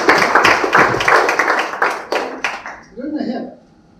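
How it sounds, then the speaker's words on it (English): A tech-community panel audience claps in a dense burst of applause that thins and fades over about three seconds before a voice begins speaking near the end. "Applause for Sobhi."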